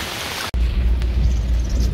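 Steady rain hisses down during a flood in Banjarmasin, a dense, even wash of noise that cuts out for an instant and then returns with a low rumbling undertone.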